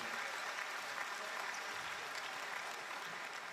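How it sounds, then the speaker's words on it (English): Fans at the Townsville Entertainment Centre applaud during a women's basketball game, a constant, distant wash of clapping across the arena with no breaks. "Getting some nice applause from the fans here at the Townsville Entertainment Centre"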